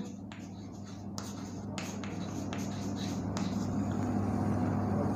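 Chalk or marker strokes scratch across a classroom board in short bursts of a few rubbing sweeps, fairly quiet over a steady background hum.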